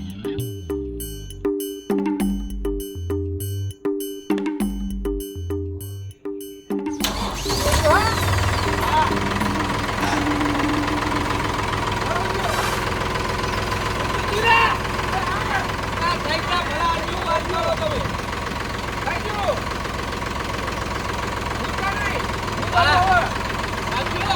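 Tractor engine cranking with a few stuttering turnovers and pauses, then catching and settling into a loud, steady knocking run, with people talking over it.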